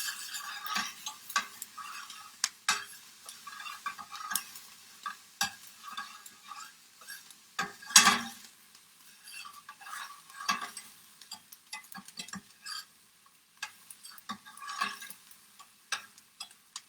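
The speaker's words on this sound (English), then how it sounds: "so I can stir these onions" Onions stirred in a pan with a utensil, giving a run of light scraping clicks and taps with faint sizzle underneath, fairly quiet overall with one sharper clatter midway.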